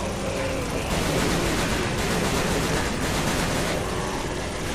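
New guns in the video game Shadows of the Damned fire in dense, rapid bursts that blur into a loud, continuous roar of gunfire, surging about once a second.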